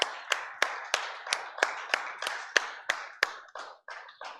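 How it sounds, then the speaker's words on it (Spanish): A church congregation claps together in a steady, even rhythm, about fourteen sharp claps over a few seconds, loud and close with no talking. "Dale un aplauso al Señor."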